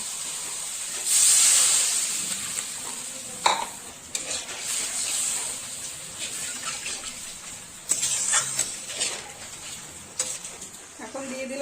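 Water poured into a spice paste frying in a pan for a Bengali fish egg pakora curry gives a sudden loud hiss and steam burst, followed by stirring clatter and bubbling sizzle.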